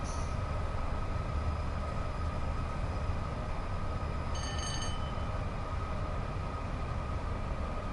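Merry-go-round freight wagons roll along the Crewe to Preston line in Train Sim World 6, a steady rumbling hiss of wheels on rail with a brief metallic ring partway through.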